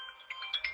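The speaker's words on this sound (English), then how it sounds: "You're going to hear the ringtone." A short electronic phone ringtone chirps in a rising, repeating melodic pattern, fairly quiet and heard on its own.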